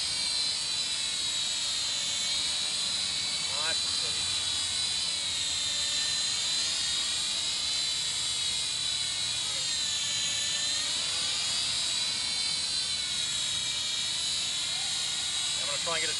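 A Swann Xtreme Quad Force video drone in flight gives a steady high-pitched whine that holds throughout and shifts in pitch as its rotors speed up and slow down, with brief faint noises over it.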